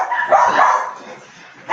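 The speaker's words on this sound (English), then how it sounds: "My parents get so annoyed when the dogs bark." Dog barking, a short burst of yips and barks that fills most of the moment at close range, then trails off.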